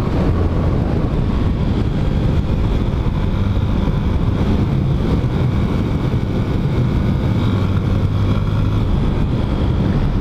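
A Yamaha FZ 250 motorcycle rides along warming its Pirelli Diablo Rosso II tyres, a steady low engine rumble blended with heavy wind rush across the microphone, constant and loud with no talking.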